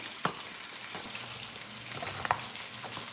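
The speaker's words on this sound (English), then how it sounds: "Deep frying turkey, if anyone's new on here." Steady crackling sizzle of a turkey deep frying in hot oil, continuous and fairly quiet, with an occasional sharper pop.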